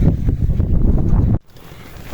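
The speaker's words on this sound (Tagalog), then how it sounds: "Dahil sobrang lakas ng hangin, tapos lamig." Loud, blustery, cold wind on Mount Olis buffets the microphone in a steady roar, then cuts out abruptly to a much quieter background inside a tent.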